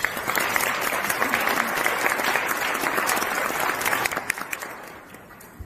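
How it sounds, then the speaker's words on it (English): An audience at an evening award ceremony applauds the award recipients, a steady burst of clapping that fills the room before thinning out and fading near the end. "Please give them a round of applause."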